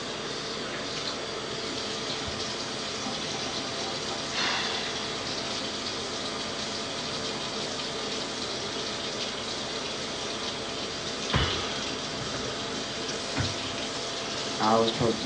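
Water runs steadily from a tap while containers fill, a continuous rushing flow with occasional clunks and splashes, and faint voices in the background.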